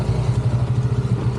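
Motorcycle engines idling at a parking area, a near, steady, pulsing low throb with a faint mechanical clatter, heard alone without talk.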